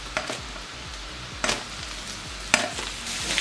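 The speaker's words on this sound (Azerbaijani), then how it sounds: "Əti də bu cür yaxşı-yaxşı qovuracam soğanla bir yerdə." Meat and onions sizzling in butter in a pan over medium heat, a steady close hiss broken by three sharp scraping stirs of a utensil against the pan.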